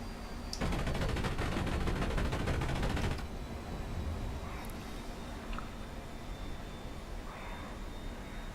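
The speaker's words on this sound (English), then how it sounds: "I like to start with the smaller machine guns and then go in with a cannon" The MiG-15 in the flight simulator DCS fires its machine guns and cannon in a dense, rapid burst of about three seconds, loud and close, then the steady drone of the cockpit carries on.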